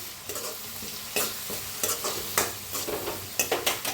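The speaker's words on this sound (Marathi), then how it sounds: "हळद टाकल्यावर भाजून घेऊया छान असं" Turmeric powder roasting with chopped coriander in a pan for an eggplant masala, a steady close sizzle with repeated spoon scrapes and stirring knocks against the pan, no talking.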